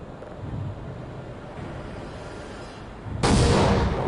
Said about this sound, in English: You press the button, it rumbles for a second, and then an explosion kills people and kills them.